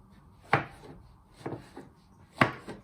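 A knife chops mushrooms in half on a cutting board, giving three distinct, fairly close thuds spaced about a second apart, each followed by a lighter tap, with no voices.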